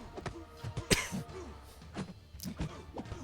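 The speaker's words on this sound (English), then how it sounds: "I had to cough as I was saying that" A man on a live stream of Marvel Contest of Champions coughs several times in quick, close bursts, sharp and fairly near, with short gaps between them and no speech.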